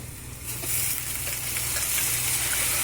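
Chana curry is added to a hot pan of frying onions, and the sizzle swells to a loud, steady hiss that keeps crackling softly throughout.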